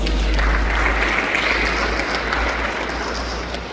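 New students at a University of Ghana level 100 orientation applaud together, a broad steady clapping that holds at roughly even loudness and eases off slightly at the end.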